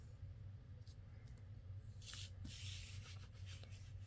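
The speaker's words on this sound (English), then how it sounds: "Let me run my bone folder down through." A bone folder is drawn along creased paper while making a file folder insert, a soft steady rubbing and sliding that swells into a broader, louder swipe in the second half, close and alone.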